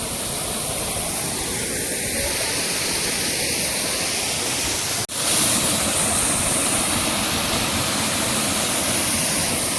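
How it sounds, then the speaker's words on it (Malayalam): Thoomanam waterfall roars as a loud, dense, continuous rush of falling water heard up close, with a brief dip in level midway. "അപ്പോൾ ഇതാണ് തൂമാനം വെള്ളച്ചാട്ടം"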